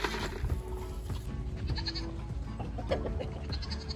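Sheep bleat amid a busy, rustling farmyard, the cries rising now and then over steady low background noise.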